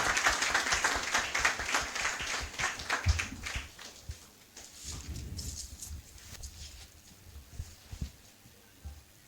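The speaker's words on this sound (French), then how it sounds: "Acclamons très fort pour le Seigneur Jésus" Applause during a church service, a dense patter of clapping that swells in bursts through the first half and then thins to scattered claps.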